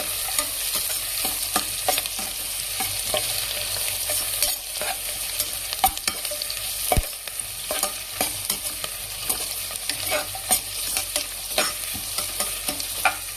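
Onions frying in hot oil in a pan and being stirred, a steady close sizzle broken by frequent scraping strokes of a spoon, with no voices.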